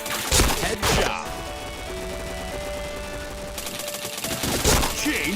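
Gunfire in a first-person shooter game: several loud, sharp bursts near the start and end, with a dense rattling stretch between them over a steady game background.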